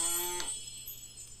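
A cow moos in the Farmer's Fairy Tale farm game, one sustained low tonal call that cuts off abruptly partway through, followed by a soft ambient game background.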